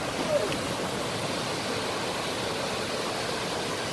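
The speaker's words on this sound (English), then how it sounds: "Waterfall." Waterfall at a show cave site in Wales, a steady broadband rush of falling water filling the whole clip at even loudness, with no talking over it.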